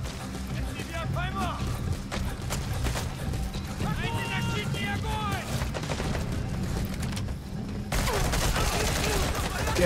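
Gunfire in the Metal Gear Solid V video game, sustained bursts of unsuppressed weapon fire and impacts during a military outpost firefight, dense and continuous under game music and effects, with speech present.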